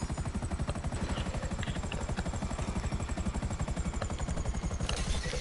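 A helicopter in GTA V Online thumps with a rapid, steady rotor chop and a high turbine whine, loud and continuous throughout with no voices.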